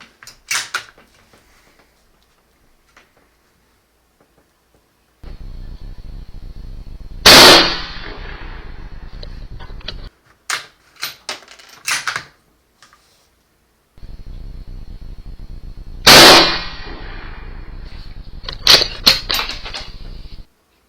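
Rifle fired at a target at night, two sharp loud shots several seconds apart, each followed by clicks and handling noises over a low steady hum.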